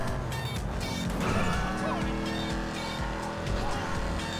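Car weaving through traffic in Grand Theft Auto V, a continuous engine roar with tire noise and the hiss of other vehicles, some faint talk mixed in.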